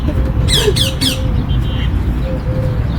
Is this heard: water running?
no